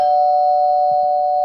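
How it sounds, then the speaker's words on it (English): A doorbell gives a sustained electronic tone, loud and steady throughout, with no talk. "You can really, you don't need to keep on ringing the doorbell."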